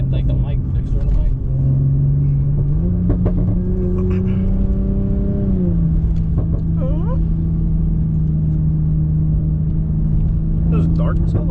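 Toyota Supra driven at night on a Mexican highway, its engine droning steadily and rising in pitch as it revs and pulls, with wind and road rumble underneath and voices talking over it.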